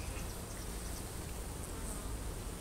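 Honey bees from a removed hive buzz in a dense, continuous swarm drone, steady and close throughout.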